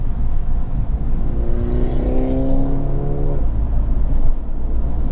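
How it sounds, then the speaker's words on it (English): A Peugeot 2008 with a 1.2 turbo engine accelerates from low revs, its engine note rising in a clear climbing tone over steady road rumble before easing back, heard from inside the cabin. "You just have to throttle it, and the turbo starts coming in from a very low RPM."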